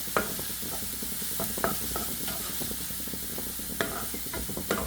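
Two medium-sized chopped onions sizzling in hot oil for a peanut curry, stirred now and then with a spoon that scrapes the pan in soft, irregular clinks over a steady frying hiss. No one talks.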